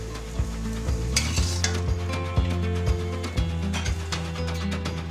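Clams and local river prawns are stir-fried in a wok with Shaoxing rice wine and Chinese basil, making a steady loud sizzle under a spatula that scrapes and clinks against the metal at a regular rhythm.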